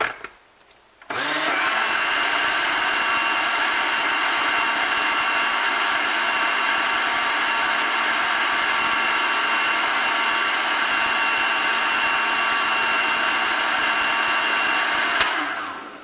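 An electric blender whirs up melon and watermelon juice, switching on after a moment of quiet and running as a steady, loud, close roar for about fifteen seconds before cutting off, with no voices.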